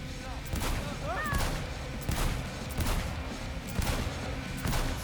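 Gunfire at a shooting range in the game Road to Liberty: a series of sharp, evenly spaced shots, about five or six over a few seconds, each with a short echo, with a voice talking in between.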